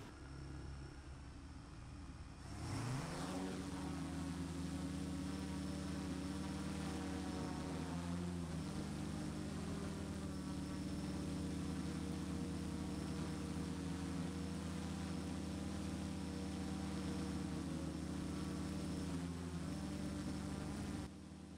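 3D printed drone holding position in GPS hold, its motors spinning up after a brief pause into a loud, steady propeller whine and buzz that stays constant and close, with no talk.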